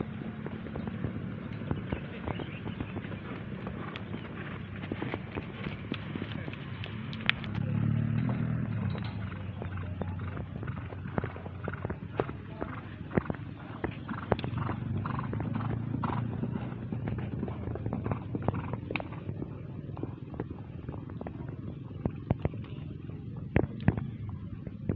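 Racehorses training on the track for a traditional Gayo horse race in Aceh Tengah, irregular hoofbeats and clip-clops scattered across a steady outdoor background, mostly moderate in loudness and fairly distant.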